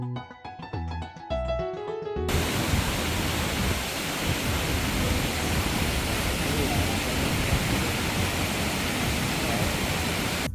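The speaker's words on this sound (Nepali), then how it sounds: "भिरको माथिबाट यसरी पानी झरेको रहेछ।" Water falls from the top of a tall cliff along a Himalayan trekking route in Myagdi, and its dense, continuous roar fills the scene after a brief stretch of music at the start.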